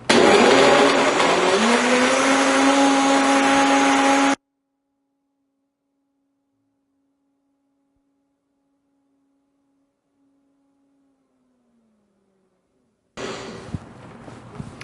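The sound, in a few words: blender mixing a chocolate weight-loss smoothie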